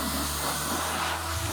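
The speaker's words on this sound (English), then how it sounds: "I haven't gone straight for her face with the blow dryer." A pet blow dryer runs in a steady, loud, close rush of air while a large Groodle is groomed at a grooming salon, with no talking.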